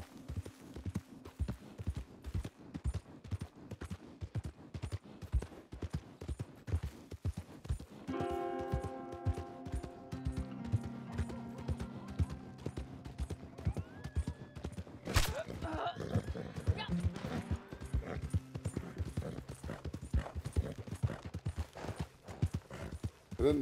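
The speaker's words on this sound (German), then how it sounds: "Rennen hier so viele Pferde rum, mitten auf der Gas." Horses galloping in the video game Red Dead Redemption 2, a steady stream of rapid hoofbeats throughout, with game music and a voice coming in partway.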